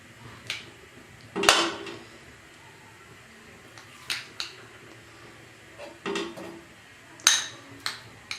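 A frying pan set on a lit stove, several sharp metallic clanks and clinks of cookware at irregular intervals, close and fairly quiet, with no talking.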